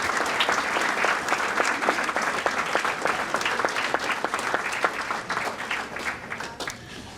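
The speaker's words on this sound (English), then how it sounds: "Please, a round of applause." A crowd at a 2021 bowling association Hall of Fame ceremony claps in a dense, sustained burst that holds steady and then tapers slightly toward the end.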